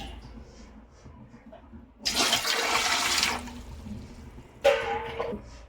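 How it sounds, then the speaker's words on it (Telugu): Water pours into a pot for boiling chicken dum biryani rice, two loud splashing pours, one long and one shorter, with quiet background between them. "ఇందుకు ఒక 4 చెంబుల నీళ్ళు పోసుకోవాలి"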